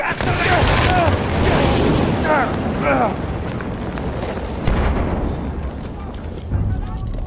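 A hand grenade goes off in Battlefield 1 on the Mt Grappa Domination map, a close, loud boom that rumbles on. Shouted soldier voices overlap the blast.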